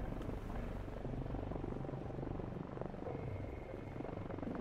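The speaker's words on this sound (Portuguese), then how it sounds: "teu helicóptero sendo destruído" A helicopter in the survival game Sunkenland, set on an attacked atoll, gives off a steady, dense rotor and engine rumble while being destroyed, continuous and moderately loud throughout with no voices.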